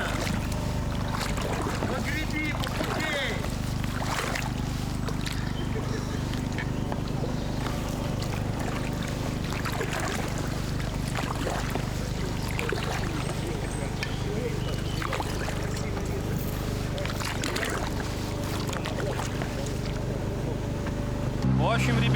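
Motorboat heading out onto a windy lake during a predator fishing competition from boats on Lake Soro, a steady low outboard engine drone with constant wind buffeting the microphone and water noise throughout.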